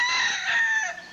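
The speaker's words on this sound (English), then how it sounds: "Say, good rooster. Come on, rooster." A rooster crows once, a loud close harmonic call held about a second before falling off at the end, with no talk.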